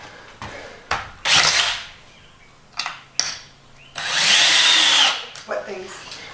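Power drill driving screws through wooden furring strips into the metal floor of a school bus conversion, heard as two loud whirring bursts with short clatters between them and brief voices at the start and end.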